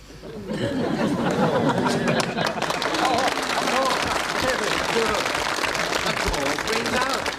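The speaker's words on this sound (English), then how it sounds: "Applause rings out." Studio audience on a 1969 comedy panel show breaks into applause mixed with laughter and chatter after a joke, a dense, continuous roar that swells in quickly and holds.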